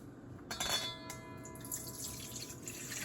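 Warm microwave-heated water poured into a large mixing bowl for pizza dough, a soft brief splash and trickle with faint drips, heard quietly and alone.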